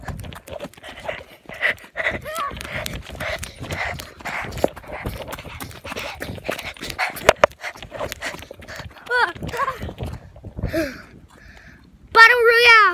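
A dog in a battle royale video game pants in quick rhythmic breaths and whimpers in rising and falling whines near the end, with talking and game noise alongside.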